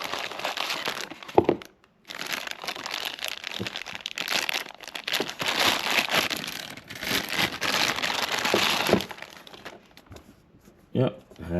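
Paper crinkles and rustles as it is peeled off a laptop power adapter during an unboxing, in uneven bursts with short pauses, close up, while a person talks over it.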